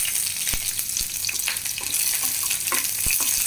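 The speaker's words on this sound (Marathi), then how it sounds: "आतां हांव हाका 2 मिरसांग घालता." Dried red chilies and garlic fry in hot oil for beetroot curry, producing a loud, continuous close-up sizzle with a few sharp clicks of the spoon, with no voices.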